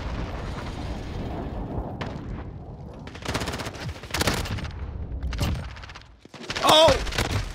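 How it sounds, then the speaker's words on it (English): Bursts of gunfire and booming explosions in the Modern Warfare video game come in irregular clusters, with heavy blasts and a loud surge near the end. "So much explosions."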